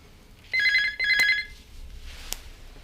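A telephone bell rings in two clear bursts, loud and close in a quiet indoor room, with a fainter click or knock afterward and no talking.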